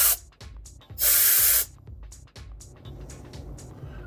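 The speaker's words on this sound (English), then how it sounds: "This thing blows a little air down here." Compressed air bursts from an air hose on an old bandsaw in short, close hissing puffs, one much longer blast near the middle, set against quieter mechanical rumble and clicks.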